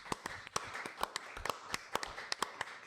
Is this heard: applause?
yes